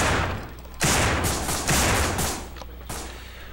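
Bursts of gunfire in the zombie survival shooter No More Room In Hell, three loud volleys with brief gaps between them, close and dense over a low background hum.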